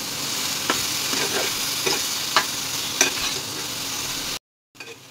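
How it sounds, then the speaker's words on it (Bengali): Winter vegetables fry lightly in a pan with salt, turmeric and chili powder, giving a steady sizzle broken by periodic spatula scrapes and stirring clinks, then a brief cut to silence. "এখানে আমি সবজিটা ভেজে নিব হালকাভাবে, একটু লবণ হলুদ আর একটু গুঁড়া মরিচ দিয়ে"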